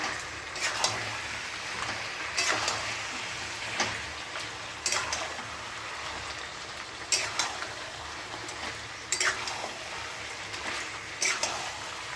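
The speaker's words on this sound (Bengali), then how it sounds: "নুন হলুদ দিয়ে দিয়েছি, এখন ভালো করে কষে নেব" A pan of food being stir-fried with salt and turmeric, soft steady sizzling broken by repeated scrapes and clacks of a spatula against the pan, fairly quiet and close, with no talking.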